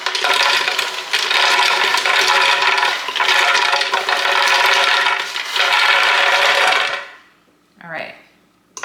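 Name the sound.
roasted nuts poured into a Ninja blender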